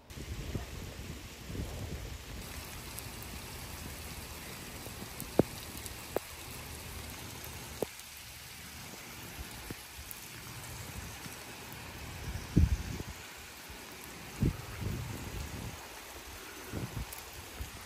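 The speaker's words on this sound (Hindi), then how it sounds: "हम आए तो बारिश भी आ गई ना" Steady rain falls on surfaces with occasional sharper drips and knocks, a continuous soft wash heard from nearby.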